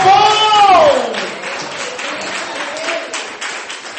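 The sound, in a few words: church congregation applauding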